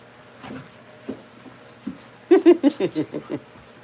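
A dog named Riley whimpers in a run of soft yelps and whines. A few scattered cries come first, then a quick series of six or so rhythmic whimpers close by, while someone speaks softly.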